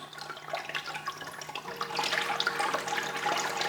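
A Sicce Syncra aquarium circulation pump at 8% power churns the tank water, producing a close, steady gurgling and splashing that grows somewhat louder and busier partway through.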